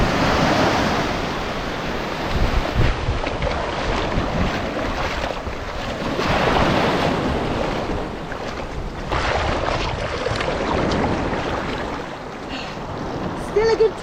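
Ocean surf washes onto the Spanish coast in loud, rolling surges under strong wind buffeting the microphone, with voices faintly in the mix.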